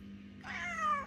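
A cat gives a single faint meow that rises and then trails off, heard close by in a quiet room with a low hum underneath.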